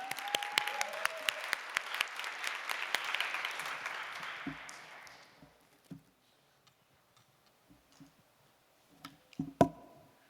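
A church youth service audience applauds warmly for several seconds before the clapping fades into scattered small taps and a few quiet knocks.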